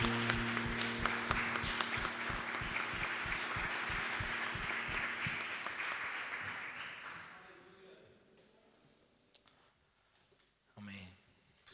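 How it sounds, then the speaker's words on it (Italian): A church congregation at a Sunday worship service in Verona breaks into sustained loud applause with cheering voices, which fades after about seven seconds into a quiet room with a few faint voices. "fare un grande applauso al nostro Signore."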